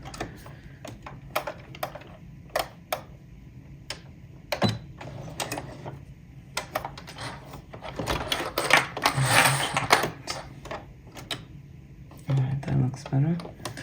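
A sewing machine back stitches an apron in short, quick runs of needle clatter separated by pauses, close and fairly quiet, with small clicks between bursts.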